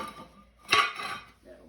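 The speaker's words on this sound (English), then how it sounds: "Dismantle the top part of this oven." Metal parts of a Sterno oven top being lifted off and set down, one bright clatter of metal on metal followed by a shorter rattle, close and fairly quiet.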